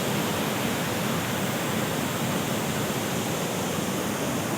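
The Satdhara waterfall in Kanker, Bastar roars as a dense, steady wash of rushing water with spray, loud and unbroken throughout.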